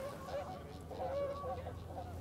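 Geese or ducks honking as they fly off, a few faint, distant calls repeating under a steady low rumble of background noise.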